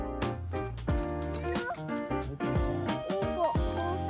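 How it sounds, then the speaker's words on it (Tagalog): Several drawn-out meows from three cats at a campsite, rising and falling, close by, with a voice speaking briefly in between. "Ang daming pusa, ah."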